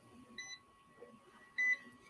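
A Fluke multimeter with test leads gives short electronic beeps on detecting voltage, two brief tones heard about a second apart, close and fairly quiet, over a steady faint hum.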